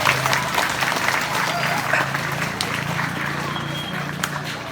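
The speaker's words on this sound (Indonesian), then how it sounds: "Untuk itu tepuk tangan buat kita semuanya." Audience applause at a Friday morning religious gathering, many hands clapping in a loud, sustained wash that stays fairly steady, with some voices mixed in.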